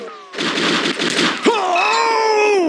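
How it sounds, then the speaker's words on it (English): Rapid bursts of gunfire from the crime action game True Crime: Streets of L.A. crackle loudly and densely for about a second, followed by a sharp hit and a sustained groaning, pitched voice-like tone. "Who the hell do you think you're shooting at?"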